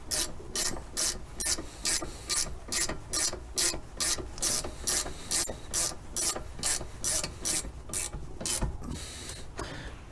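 A ratchet clicks in steady rapid bursts while tightening brake caliper bolts on a 2007 Acura, with close, regular rasping strokes repeating throughout and no talk.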